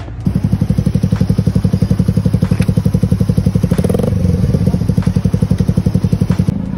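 Steady pulsing engine of a Rusi Bullet Raider 150 motorcycle held at low revs with small throttle changes on a sunny practice session, loud and close, a continuous rapid thumping beat throughout.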